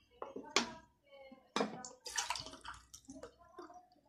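Water poured from a cup into a sponge cake mix batter in a home kitchen, heard as a few short, soft splashing pours with pauses between them, fairly quiet and close.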